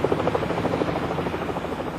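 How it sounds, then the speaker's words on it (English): A police helicopter's rotor beats steadily in a fast, even thumping rhythm, holding at a constant level as it passes overhead searching a park, with no voices. "helicopter, call sign India 99, uses a heat-seeking camera to search the park for the fleeing car thieves"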